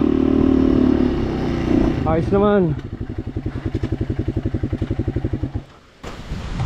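A motorcycle on a muddy Sierra Madre mountain trail along the Mauban-Cavinti route revs loudly, then drops to a chugging, rhythmic idle thump before cutting out, with a person speaking briefly over the engine.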